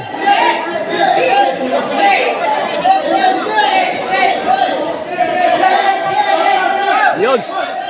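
Crowd at a volleyball game on a court in Kabangtalan, a steady murmur of chatter and cheering voices held at a constant loud level, with a commentator speaking over it and a whistle-like tone near the end.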